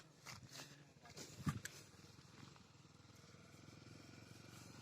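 An old-model motorbike runs with a steady low engine drone through the clip, fairly quiet, with a brief clatter near the middle and faint voices in the background.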